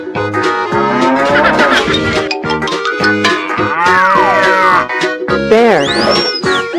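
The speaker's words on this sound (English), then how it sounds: "Cow." A cow moos several times in drawn-out, tonal calls amid a busy, loud mix of other animal sounds and cheerful background music, the lowing close and prominent throughout.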